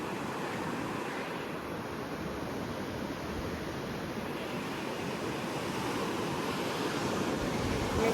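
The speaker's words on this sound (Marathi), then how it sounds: "लाटा जाम जोराने येतात." Strong ocean waves roll onto a beach near a Gokarna, Karnataka, seaside room, forming a dense, continuous roar of surf that stays loud and even throughout, with no voices.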